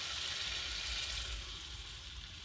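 Previously heated water hits chicken cooking in a pan and sets off a steady, bright hiss of sizzling, loud at first and easing slightly but continuing throughout, with no voices.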